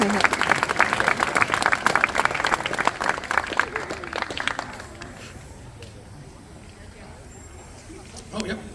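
An audience at a student-of-the-year ceremony applauds loudly, the dense clapping fading after about five seconds into a quiet room with a few scattered claps near the end.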